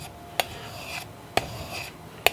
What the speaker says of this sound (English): So let's get these irons sharpened up real quick.